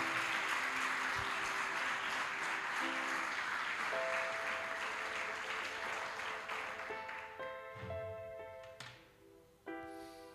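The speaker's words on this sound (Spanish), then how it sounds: "¿Por qué no le das un aplauso al Señor," A church congregation applauds at a worship service, a dense wash of clapping close and loud that fades over about ten seconds, with organ or keyboard notes rising beneath as it thins.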